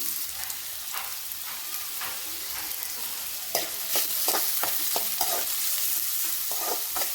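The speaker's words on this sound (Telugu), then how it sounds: "బాగా ఫ్రై అవ్వాలండి గోల్డెన్ బ్రౌన్ కలర్లోకి రావాలి" Two medium onions, thinly sliced, fry in oil in a kadai: a continuous hissing sizzle with frequent stirring scrapes. It grows busier and slightly louder halfway through.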